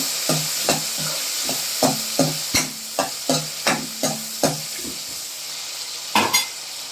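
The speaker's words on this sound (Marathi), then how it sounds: "मिरची छान परतली की ह्यात आपण टाकणार आहोत सर्व भाज्या." Mixed vegetables with brinjal sautéing in a pan for sambar: a bright, continuous sizzle broken by a regular series of close, sharp scrapes and knocks as a spoon turns them over.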